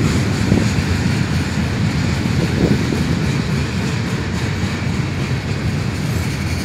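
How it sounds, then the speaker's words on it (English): The tail end of a freight train rolls past on tracks west of Flagstaff, with steady clickety-clack and rumble from the rail cars. It is loud and continuous, with no talk. "no caboose, but that's the end of the train right there."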